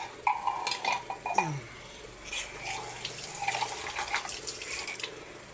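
A small amount of water is poured into a cooking pot for a dinner of kangkong, with splashing and clinks of pots and utensils up close.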